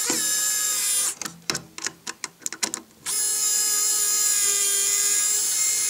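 A power drill drives screws into a rudder servo mount for a Kadet LT-40 model airplane, a steady high whine broken by a string of quick start-stop pulses before the whine resumes, loud and close with no talking.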